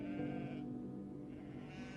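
Sheep bleating in two wavering calls under a low steady background hum, moderately close.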